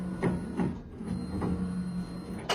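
A Triumph Speedcut 56 paper cutter, with an electromechanical knife and hydraulic clamp, runs close by. Its mechanical whir and clunks repeat in a few quick strokes over a steady motor hum.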